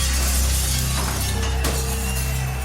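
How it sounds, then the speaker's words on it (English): Glass windows shatter as a mob rampages through stores and boarding houses during a riot, a short sharp crash ringing out over a loud, sustained droning background. "Window after window was shattered in stores and boarding houses"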